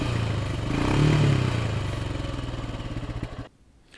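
Royal Enfield Himalayan motorcycle with its stock silencer, exhaust running close and loud with a throaty pulsing idle that swells briefly, then cuts off abruptly near the end.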